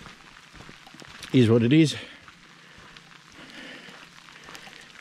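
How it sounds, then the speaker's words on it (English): Steady rain patters on surfaces in the Australian bush of the Pilliga region in NSW, a soft continuous hiss under a brief spoken remark from a nearby man. "Rain's not letting up."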